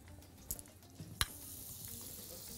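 Something quietly sautéing in a covered pan, a faint steady sizzle with a couple of brief knocks, one sharp clink near the middle, no voices.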